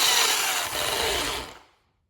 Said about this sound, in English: So I've rigged up my drill here with the wire brush on it